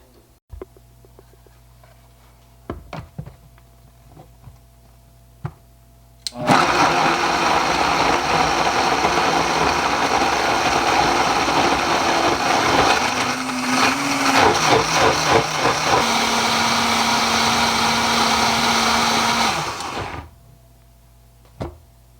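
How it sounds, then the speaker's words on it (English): A Vitamix blender grinding peppers, onions, garlic and carrots for cayenne pepper hot sauce, running loudly and steadily for about fourteen seconds with a shift in pitch partway through, after quiet kitchen clatter. "Vitamix blender, and this is just, again, the peppers, onions, garlic, and carrots, and I'll grind it up"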